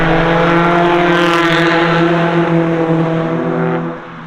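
A 1.3 or 1.6 litre Iris race car in a time attack event, its engine holding a loud, steady drone close by with rough crackling on top before fading near the end.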